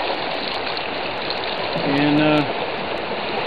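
Fast-moving creek water in Alaska rushes as a steady, loud broadband wash throughout, with someone talking over it and a brief tonal sound near the middle.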